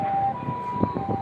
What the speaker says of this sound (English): You can hear the sirens. Yeah, it's an ambulance.